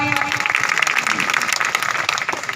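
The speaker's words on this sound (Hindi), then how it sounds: "बजाओ एक बार तालियां।" An audience at a Hindi poetry gathering (kavi sammelan) claps in a dense, steady burst of applause, fairly close and loud throughout, with a crowd murmur underneath.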